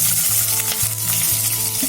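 Green chillies and chopped onions sizzle and fry steadily in hot oil for a sorrel leaves and chana dal curry, a dense continuous crackle with a low background hum and no voices.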